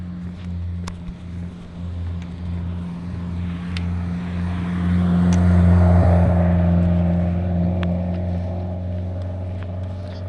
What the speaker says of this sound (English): Here comes a car with no muffler.